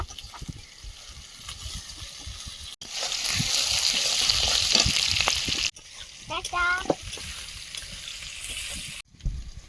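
Onion and capsicum frying in a pan with a little salt for chili chicken, a steady hiss that grows louder in the middle, broken by brief pauses and clinks.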